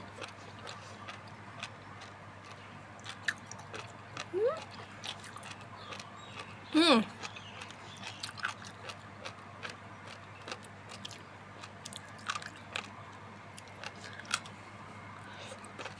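Jellyfish is eaten in small chewy, crunchy bites, faint close mouth clicks and squelches repeating irregularly over a low steady hum, with one louder squishy bite near the middle.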